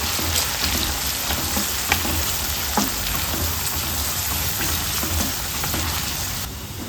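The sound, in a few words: onions frying in oil until brown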